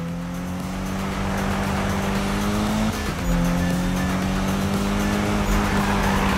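Race car engine in Need for Speed lapping a very short loop, a loud steady roar with a brief dip and gear change near the middle, tires squealing over it, continuous and close.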